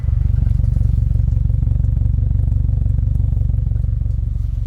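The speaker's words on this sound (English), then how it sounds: "Got an absolutely stunning idle on this." A deep, steady engine idle with a throaty exhaust burble from a 2022 Subaru WRX RS, running continuously and close by without pause.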